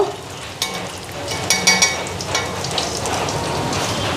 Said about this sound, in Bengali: সেদিকে বড়াগুলি ভাজা হয়ে গেল